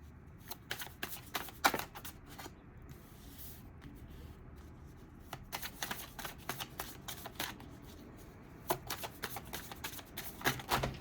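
A tarot deck shuffled close up in quiet surroundings: repeated crisp riffling flutters and card slaps in uneven bursts, with some cards flying loose.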